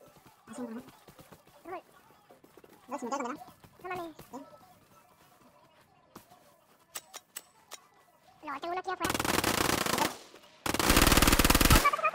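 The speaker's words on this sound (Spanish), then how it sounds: "Ay, disparó, ¿eh? No sé dónde." Bursts of automatic gunfire from the video game Vigor on PS4/PS5, two long loud volleys near the end after scattered quieter clicks and shots, with players talking earlier in the clip.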